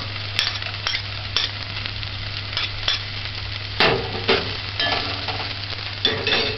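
Onions and garlic sautéing in a pan give a steady close sizzle, with periodic scraping and clinks of a utensil stirring against the pan over a low constant hum.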